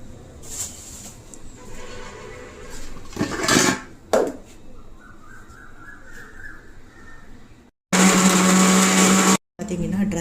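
A blender whirs through dry fruits and banana for juice: after some quieter kitchen clatter and brief talk, a loud, steady, close grinding burst runs for about two seconds near the end.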